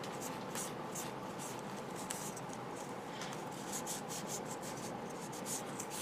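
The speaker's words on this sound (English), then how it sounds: "I'm going to use my lint-free rag, and I'm going to give it a slight buffing" A lint-free rag buffing a 1/100 scale Gundam Barbatos Lupus model kit part, giving a steady soft rubbing and swishing with quick repeated strokes, close and continuous.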